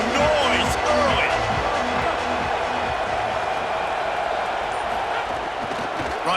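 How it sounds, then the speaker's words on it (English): Stadium crowd in EA College Football 27 during a Clemson versus LSU game, a dense steady roar of fans with scattered cheering, running under a commentator's voice throughout. "This crowd bringing the energy and noise early."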